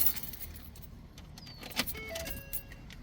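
Ignition key turned to the on position in a 2015-2020 Ford F-150, with a soft key jingle followed by a few quiet electronic chime tones inside the cab.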